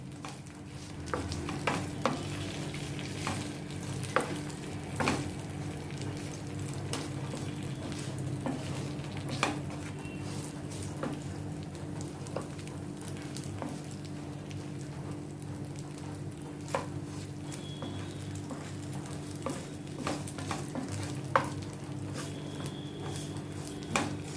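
Idli pieces fried in refined oil and stirred in a pan, a continuous soft sizzle with frequent scraping and clinking spoon strokes, close and steady.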